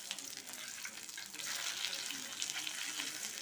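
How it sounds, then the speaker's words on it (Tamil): Masala-coated fish deep fries in hot oil with a quiet, steady hiss and fine crackle, close but faint and brief. "திருப்பி விட்டு நல்லா மசாலா எல்லா பக்கமும் படுற அளவுக்கு எண்ணெயில் டீப் ஃப்ரை பண்ணிக்கலாம்."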